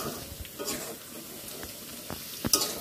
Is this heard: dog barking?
no